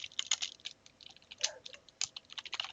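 Rapid typing on a computer keyboard, the keys clattering in short irregular bursts with brief pauses between, close and fairly quiet.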